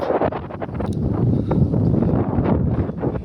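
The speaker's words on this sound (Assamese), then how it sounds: "পুৰা বতাহ দি আছে" Strong wind blowing across a mountain viewpoint, roaring and buffeting the microphone in steady low gusts throughout, close and fairly loud with no voices.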